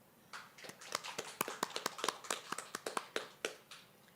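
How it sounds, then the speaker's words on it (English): Audience at a 2020 graduation ceremony applauding a graduate in a hall, with a few loose individual claps building to scattered, fairly sparse applause over several seconds. "Let's applaud our graduate."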